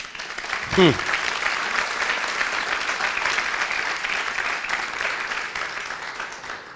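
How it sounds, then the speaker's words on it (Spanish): A church congregation applauding, a sustained, even wash of clapping from a large crowd that fills the room, with a brief spoken exclamation near the start. "Denle un aplauso al Señor, que lo veo muy callado."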